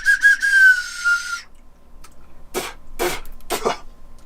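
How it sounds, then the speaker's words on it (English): Handmade ceramic clay whistle blown in one steady, shrill tone lasting over a second, followed by a few breathy coughs or throat-clearing sounds. "This is a clay whistle."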